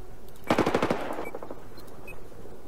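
A short burst of rapid machine gun fire from a gunship in Battlefield 4, about ten quick rounds in under half a second, loud and close, followed by fading reverberation.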